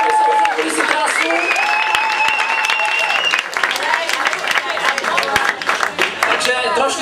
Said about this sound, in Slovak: Jeden veľký potlesk všetkým finalistom